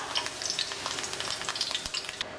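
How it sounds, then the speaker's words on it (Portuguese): Small caruru (amaranth) leaves fry in hot oil, a steady, crackling sizzle with rapid pops, close and fairly quiet, with no voices. "eu tô fritando umas folhinhas de caruru que são mais pra decoração do nosso prato"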